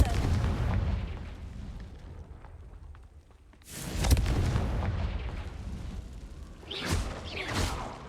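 A Confringo fire-blast spell in Hogwarts Legacy erupts as a loud, close boom with a rumbling tail, followed by further explosive bursts and crackling impacts during combat.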